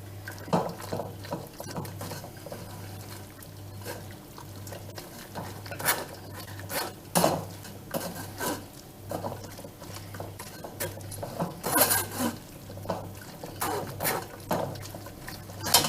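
Softened grapes mashed in a pot to press out their juice, giving soft, irregular wet squelches and patters with occasional sharper clinks of the utensil against the pot, close and moderately quiet.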